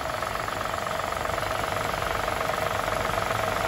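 Engine-operated HTP sprayer running steadily at close range, a continuous dense mechanical drone with an even knocking engine rumble and no pauses.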